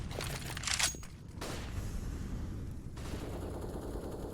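Rifle fire in a CS:GO match, a quick burst of sharp gunshots followed by steady rumbling game ambience and a few more distant shots.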